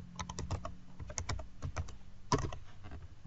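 Quick bursts of keystrokes on a computer keyboard, clustered in short irregular runs with a louder tap near the end, close and clear with no talking.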